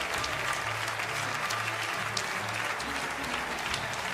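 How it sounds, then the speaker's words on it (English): An audience applauds the 2018 F1 Esports Pro Series champion, dense continuous clapping that holds at an even, loud level throughout, with a faint voice or two underneath. "a huge round of applause for the 2018 F1 Esports Pro Series champion"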